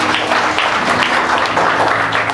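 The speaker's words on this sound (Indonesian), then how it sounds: "Berikan tepuk tanganmu yang terbaik." Church congregation applauding during a Sunday service sermon, a steady dense wash of clapping that carries through the whole stretch at even loudness with no pauses.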